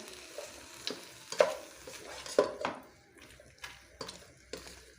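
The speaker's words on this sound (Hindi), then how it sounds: "ये मैं इसमें डाल देती हूँ और इसको अच्छे से मिक्स कर देती हूँ।" Shell-shaped macaroni, about a quarter kilo, tipped into a pan of cooking vegetables and stirred through, with soft scraping and light clinks of a spoon against the pot in irregular bursts over a quiet sizzle, no talk.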